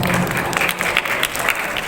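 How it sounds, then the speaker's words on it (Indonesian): An indoor audience at a formal handover ceremony applauds, producing dense, steady clapping that continues evenly throughout. "Kasih aplaus teman-teman."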